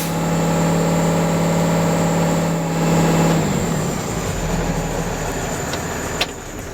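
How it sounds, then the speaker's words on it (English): A BCT-468 engine revs up to governor speed and holds steady during an electrical system test, its loud, constant drone broken by a downward pitch shift midway and a brief click near the end. "Now I'll rev to governor speed and hold there."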